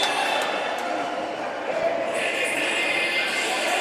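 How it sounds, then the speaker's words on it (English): Steady murmur of a large arena crowd at a Six Nations Ironmen versus Orangeville Blitz NPHL playoff hockey game, a continuous wash of chatter and ambient noise with no distinct cheers. "Great crowd on hand."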